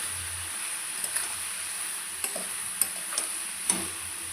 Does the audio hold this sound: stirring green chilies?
yes